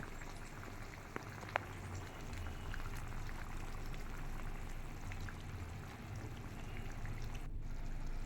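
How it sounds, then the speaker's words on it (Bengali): Chitol fish curry with garam masala bubbling gently over low heat, a faint, steady simmer with a few soft pops, close by and without voices. "এইভাবে গরম মশলা দিয়ে দেবার পর আরও খানিকক্ষণ এভাবে স্লো আছে আমি ফুটিয়ে নেব"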